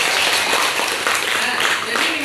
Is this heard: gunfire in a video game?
no